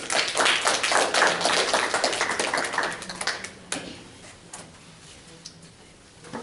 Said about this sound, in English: And a round of applause for these gentlemen.